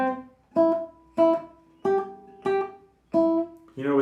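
Six detached classical guitar notes played staccato, each plucked and quickly cut short with clear gaps between them, close and clean with no talking.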